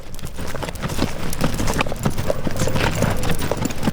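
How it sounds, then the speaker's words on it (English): Horses' hooves clip-clop steadily on a ranch as riders train them, a continuous busy patter of many hoofbeats at moderate distance with no talk over it. "other horses are hard at work training with their riders"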